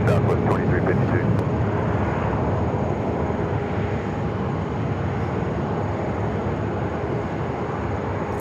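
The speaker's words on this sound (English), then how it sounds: "Departure Southwest 2352." A Southwest airliner departing Phoenix Sky Harbor airport makes a loud, steady jet roar that fills the whole stretch, with a few sharp clicks at the start.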